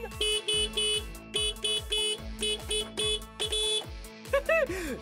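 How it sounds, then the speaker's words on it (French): A toy excavator's electronic horn honks in short repeated bursts with a bright, buzzy tone, followed by a brief warbling electronic sound, all fairly faint. "Et si on testait le klaxon?"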